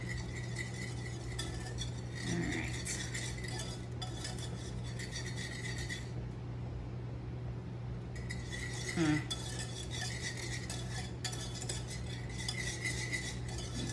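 A utensil stirs a thick mixture laced with jalapeno juice in a bowl, scraping and clinking softly and steadily at close range over a constant background hum.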